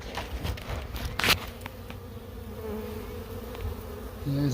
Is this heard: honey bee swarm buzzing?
yes